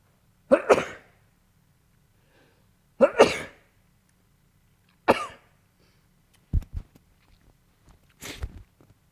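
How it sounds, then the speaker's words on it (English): Several sneezes and coughs burst out one after another with short pauses between them, close and fairly loud against near silence. "I'm going to sneeze again here"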